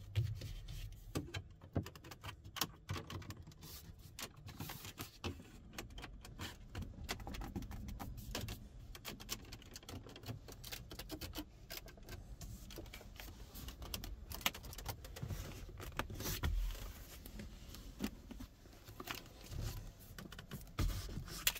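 Faint, irregular creaks and small rattles from interior trim inside a moving Mercedes V 300d 4Matic 2.0 van, soft and scattered over a low road rumble, with no talking.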